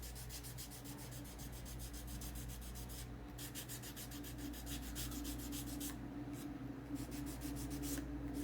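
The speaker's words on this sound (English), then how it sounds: "I think I'm going to go ahead and sand this board part" Sandpaper rubbing back and forth across a painted wooden board in steady rhythmic strokes, soft and close, a raspy scratching that repeats without pause, no talking.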